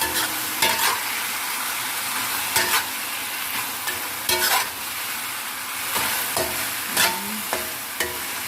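Chicken breast stir frying with onion in a pan, a continuous loud sizzle broken by regular scraping stirs of the utensil against the pan, no talking.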